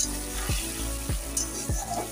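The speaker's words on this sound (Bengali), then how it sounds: "অল্প একটু সাদা সর্ষে আর গোটা জিরে আমি ফোড়নে দিই" Whole spices (cinnamon, clove, cardamom, white mustard seeds and cumin) tempering in hot mustard oil in a kadai, a steady close sizzle with a few soft thumps recurring through it.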